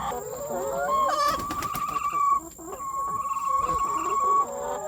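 Laying hens cluck and chatter in a poultry house, several birds calling over one another in uneven bursts, with one drawn-out higher call standing out.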